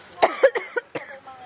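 A woman's series of short, dry coughs, about five bursts close to the microphone in a cold setting in Bandung, with no other sound around them.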